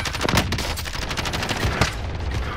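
Rapid automatic gunfire and explosions in Call of Duty: Modern Warfare, dense loud bursts of shots packed close together with no gaps between them.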